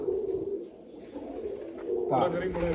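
Low, soft pigeon coos close by, repeating gently, with a person's voice mixed in toward the end.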